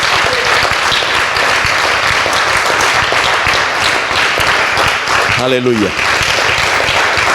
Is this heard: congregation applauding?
yes